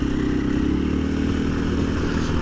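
A 2024 KTM 500 EXC-F dirt bike on stock ECU mapping rides at low RPM, giving a steady close engine drone with rough clattering texture.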